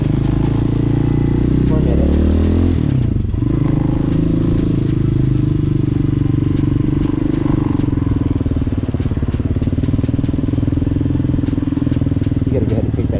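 A Honda Hawk motorcycle ridden on dirt, its engine droning loud and close with shifting pitch as it accelerates, with gravel scraping and rattling and wind noise buffeting throughout.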